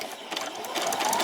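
A sewing machine runs a brief back stitch on swimsuit fabric, a close, steady whirring burst just over a second long with no pauses.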